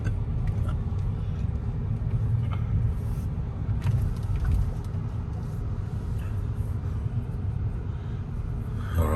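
A white truck drives by on a road, a steady low engine rumble and tyre roar holding close and even throughout, with no voices over it.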